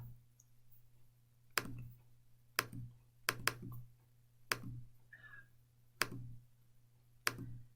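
Numbers being tapped into a calculator, a sparse series of about eight crisp clicks at irregular intervals, close and quiet against a low steady hum, with no talking.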